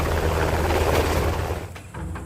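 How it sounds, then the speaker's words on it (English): Helicopter in an animated series, a loud rotor drone arriving with a pulsing low rumble that breaks off briefly near the end, with no talking. "get in the helicopter"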